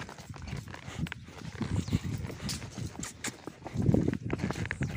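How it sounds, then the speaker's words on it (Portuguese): A mare with sensitive hooves walks on a farm, her hooves clopping in an uneven, steady series of close, moderately loud steps over a low background. "A égua tá com os cascos sensíveis, pessoal, aqui."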